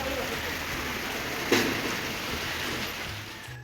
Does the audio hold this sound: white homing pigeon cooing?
no